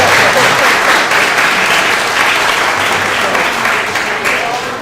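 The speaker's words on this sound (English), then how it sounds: "Clap if Michael Jordan is the greatest ever." A crowd at a boys' ice hockey game broadcast claps and applauds in a loud, steady burst that lasts the whole stretch, easing slightly toward the end.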